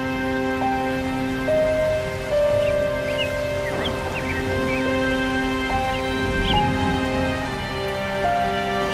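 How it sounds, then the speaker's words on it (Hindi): Heavy rain falls in a cartoon scene, a steady hiss of drops beneath soft sustained background music, continuous and moderately loud without any speech. "अरे, ऐसी घनी बारिश भी कहीं पड़ती है?"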